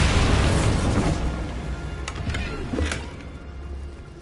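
A Bombarda explosion spell in a Harry Potter video game: a loud, rumbling boom that dies away into crackling debris and a few faint pops.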